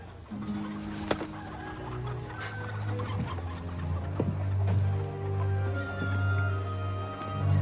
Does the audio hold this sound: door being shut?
no